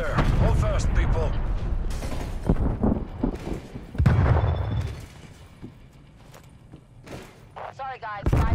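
Incoming artillery strike in the Call of Duty Black Ops Cold War hardcore team deathmatch: loud booming blasts and mechanical clatter arrive in bursts, with radio-style announcer voices speaking over the chaos.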